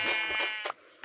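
Sheep in a video game bleat, a clear, close, wavering call that is followed by a couple of shorter, fainter bleats.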